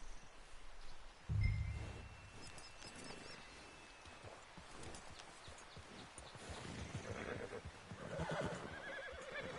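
A horse in Red Dead Redemption 2 gives a short snort, then a low rumbling whinny, amid outdoor game ambience with rustling and faint hoof sounds, moderately quiet throughout.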